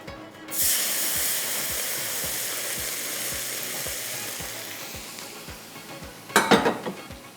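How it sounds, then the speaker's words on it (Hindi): Mustard oil goes into a mango kachumber pickle with a loud, steady sizzling hiss that slowly fades, then a brief clatter of utensils near the end. "अब ये जाएगा तेल सरसों का"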